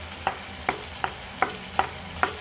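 Bitter gourd pieces frying in oil, a soft steady sizzle marked by six evenly spaced scraping taps from a stirring utensil, close and moderately loud, with no voices.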